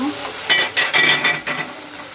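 Chicken shashlik frying in a pan gives a continuous sizzle, broken by a few louder bursts of scraping and clattering as the pieces are turned over.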